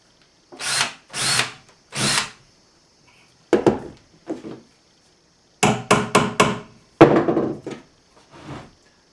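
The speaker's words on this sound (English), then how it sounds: "There's a different type of these decking screws that are the self-tapping ones that I generally use." A power drill drives self-tapping decking screws into wood while building a stand for a 2007 Arctic Cat 500 4X4 ATV, in several loud, close bursts of whirring with short pauses between them.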